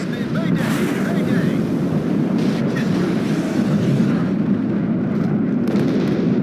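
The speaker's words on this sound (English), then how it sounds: "Very successful bombing run." Continuous rumbling blasts from a bombing run in the real-time strategy game Warno, dense and loud throughout with a steady roaring wash and no speech.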